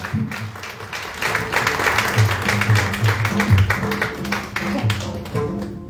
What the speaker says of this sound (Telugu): మనందరం కూడా చప్పట్లు కొడుతూ సేవకుల్ని ఆహ్వానించుకుందాం